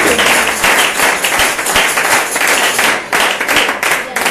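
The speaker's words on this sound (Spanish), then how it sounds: "Denle ese aplauso al Señor Jesucristo." A church congregation at a Sunday service applauds together, a dense, steady wash of many hands clapping that stays loud throughout, with voices mixed in.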